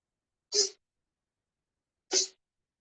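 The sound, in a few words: sneezing water out of the nose during yoga practice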